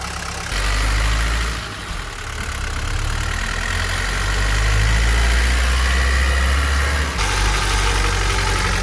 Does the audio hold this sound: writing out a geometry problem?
no